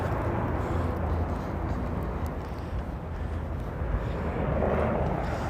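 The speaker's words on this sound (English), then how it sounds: "Loud helicopter." Steady, loud rotor and engine roar of a helicopter passing overhead, a dense continuous drone with no pauses.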